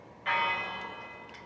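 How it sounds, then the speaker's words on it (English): A single bell in a video game town rings out once, a bright clear strike that hangs in a long, slowly fading ring. "I'm pretty sure that bell ain't gonna do shit."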